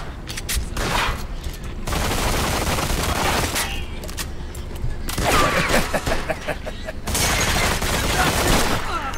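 Gunfire in the video game Mafia 2, bursts of rapid automatic fire and single booming shots in blocks separated by brief lulls, loud and close, with occasional ricochet-like whines.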